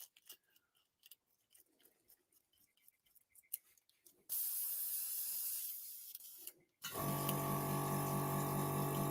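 An airbrush is blasted through for cleaning, a loud close hiss of air and liquid that runs for a couple of seconds, cuts off briefly, then resumes strongly after quiet clicks and handling noises.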